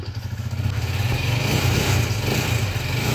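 A Honda TMX155 motorcycle engine runs after an overhaul, putting out a steady, close, low mechanical drone that swells slightly after the first half-second and then holds an even, throbbing idle.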